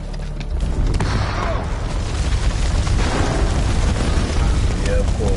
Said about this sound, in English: Oh no. Grenade!